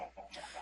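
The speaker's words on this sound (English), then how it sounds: "And the chickens are right there behind that cobblestone." Minecraft chickens clucking in a few short, soft clucks close by, alone without talk.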